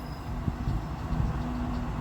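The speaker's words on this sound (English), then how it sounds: "this one will be forming service to Strood, and this one will be our train to come back." A Class 375 train on Kent's Medway Valley Line makes a steady low rumble with a sustained hum and faint rail clatter, heard close and without talk.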